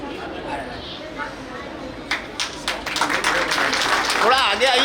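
Audience applause welcomes guests onto the stage at a Vaishnav gathering in Ahmedabad, scattered claps building to steady clapping beneath talk.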